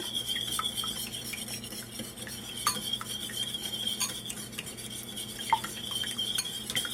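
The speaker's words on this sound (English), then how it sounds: "I'm gonna whisk my egg white" Egg whites being whisked in a bowl, with quick light clinks and scraping of the whisk against the sides, moderately faint and close, over a low steady hum.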